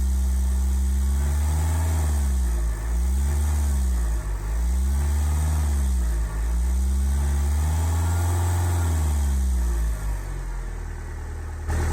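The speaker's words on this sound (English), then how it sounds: "I'm now starting to add hydrogen and the RPMs keep going higher and higher." Ford Fusion 1.4 TDCi diesel engine running with hydrogen added, a steady close drone whose revs rise and fall in repeated slow swells, loud throughout with no talking.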